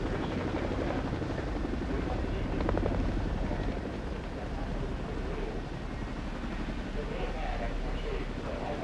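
Twin-rotor Boeing CH-47 Chinook helicopters at a 1981 RAAF Diamond Jubilee event make a steady, heavy rotor thump and engine roar that runs loud and unbroken throughout, with someone talking over it.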